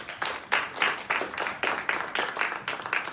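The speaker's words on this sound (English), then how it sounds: "let's give Jamie a big round of applause." Audience applause at a Startup Grind fireside chat, steady rhythmic clapping from a modest crowd at moderate loudness, with no talk over it.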